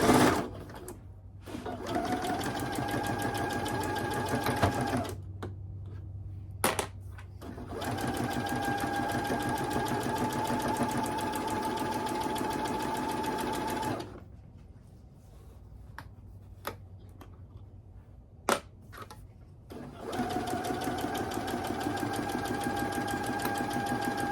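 Sewing machine stitching pillowcase fabric with backstitches: long, steady whirring runs of stitching broken by short pauses and clicks, close and moderately loud.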